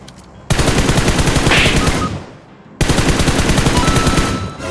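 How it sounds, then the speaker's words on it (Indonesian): Rapid automatic gunfire in a shooter video game, loud and close: two long bursts of fast, evenly spaced shots separated by a short pause, with no talk over them. "Izin ya, gue nembak ya"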